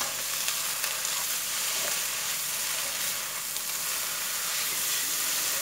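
Noodles stir-fried in a hot pan with curry powder, soy sauce and sugar, a loud dense sizzle and hiss held steady throughout with faint scraping of a spatula.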